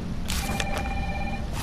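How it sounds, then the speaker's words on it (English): A phone rings in Resident Evil 3, with a few bright, repeating electronic chirps over steady low background hum in a quiet interior scene. "Just calm down with the phone calls."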